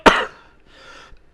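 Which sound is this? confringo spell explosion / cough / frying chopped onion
cough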